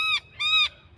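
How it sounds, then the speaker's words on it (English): Two loud, close honking bird calls, each a harsh nasal blast, separated by a short gap, against a low rumbling background. "What is that bird?"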